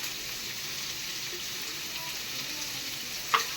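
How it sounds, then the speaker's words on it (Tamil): Onions sauté with salt and a little turmeric in a pan for an egg gravy, a continuous close sizzle with one small clink near the end. "வெங்காயம் வதங்குறதுக்கு உப்பு, கொஞ்சோண்டு மஞ்சத்தூள்."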